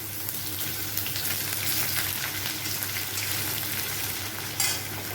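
Chopped onions go into a pan of hot oil with sugar for an egg curry and fry with a dense crackling sizzle, close and steady, a few sharper spatters along the way, no voices.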